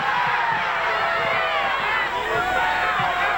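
A basketball crowd at a game screams and roars in a loud, continuous wall of noise from the stands, with footsteps on the court beneath it and a commentator's voice over the top.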